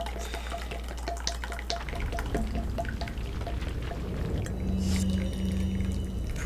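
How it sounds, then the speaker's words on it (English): Tea poured into a cup with a soft, trickling liquid stream and light drips, fairly close under a humming background of game sound, with a brief buzzing tone near the end. "Before something fucking pops up in my face while I'm pouring tea."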